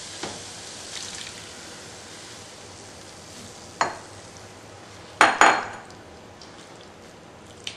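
Metal spoon scraping and clanking in a pan of onions, green chilies and tomatoes being mixed for egg keema, a few sharp knocks over a faint background hiss.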